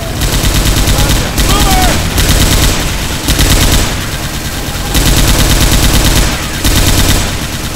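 Loud, sustained automatic gunfire in Left 4 Dead 2, dense rattling bursts broken by a few short pauses, close and dominant, with faint speech beneath.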